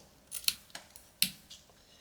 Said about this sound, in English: I'm going to trim this side at an angle as well.